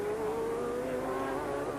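Ford Sierra race cars howl around Sandown raceway in a steady, sustained engine drone with a rising pitch, heard briefly and at moderate distance.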